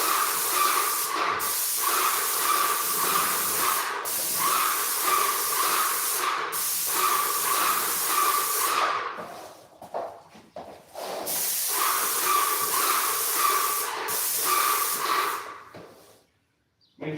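A paint sprayer hisses steadily for long stretches with brief pauses while spraying a house exterior. Near the end the spray stops for a few seconds among clattering handling noises before resuming.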